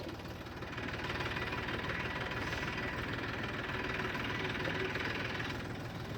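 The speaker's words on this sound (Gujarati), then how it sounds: "ટ્રેક્ટરમાં અત્યારે અવાજ બહુ આવશે" A tractor engine chugs steadily on a ride to the farm fields in rainy weather, a continuous knocking rumble close by and moderately loud throughout.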